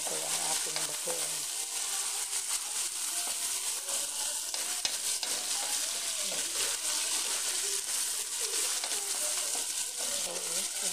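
Tomatoes sizzle and fry steadily in a pan while being stirred for bagoong alamang sa gata, with soft scraping and bubbling throughout and faint talk in the background.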